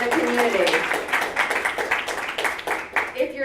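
Audience applause at a talk, a dense patter of many hands clapping steadily then thinning out toward the end, fairly close in a room.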